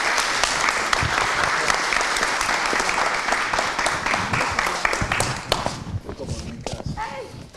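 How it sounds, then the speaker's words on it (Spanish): Strong welcoming applause from an audience at a professional seminar on property law, crisp close claps and scattered sharp hand strikes that thin out and fade near the end, with talk rising underneath. "les damos la bienvenida con un muy, muy fuerte aplauso"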